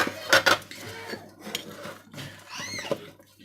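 Cake batter with prunes being mixed in a bowl, close clinks and scrapes of a utensil against the dish in irregular strokes, some sharp knocks at the start and softer stirring afterward.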